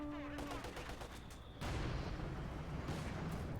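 Mortar and Katyusha rocket artillery fire in Company of Heroes 2, a dense rumbling barrage of blasts that swells and holds steady and loud, with faint voices beneath.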